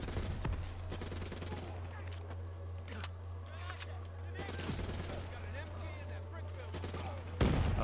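Automatic machine gun fire in the video game Call of Duty: Black Ops III, loud, dense repeated bursts over a steady low drone, with one sharp louder blast at the end and a voice speaking in the clip.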